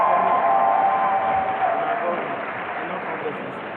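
Crowd at a university pharmacy faculty oath-taking and induction ceremony applauding a professor, a dense sustained clapping that fades slightly toward the end, with a voice speaking over it.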